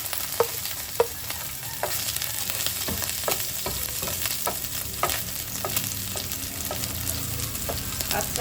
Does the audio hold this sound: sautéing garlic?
yes